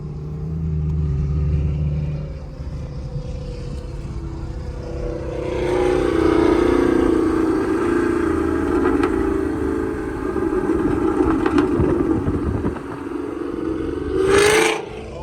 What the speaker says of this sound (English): And we are back with that loud Camaro.